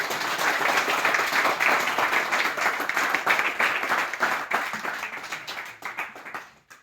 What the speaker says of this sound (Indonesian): Beri aplaus dulu buat dia.